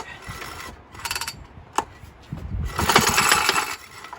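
An old, stone-cold stationary engine with a bad knock and a missing air governor is cranked and fires up, clattering and ratcheting in uneven bursts before settling into a loud, rough mechanical churning.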